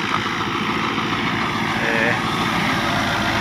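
Dabang 85 tractor engine, a 21 model, running steadily with a wheat thresher, a continuous loud broadband machine drone without break, with wind noise outdoors.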